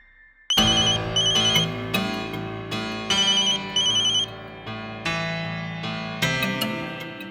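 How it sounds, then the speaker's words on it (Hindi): A mobile phone ringtone plays loudly on its own, a bright melodic tune repeating in short phrases with no talking. "तुम्हारा फोन बज रहा है।"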